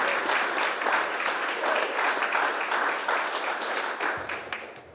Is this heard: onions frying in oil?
no